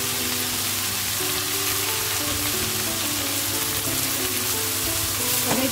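Drumstick (moringa) leaves sizzling as they fry with garlic in a pan, a steady loud crackle with busy spitting throughout and no talking.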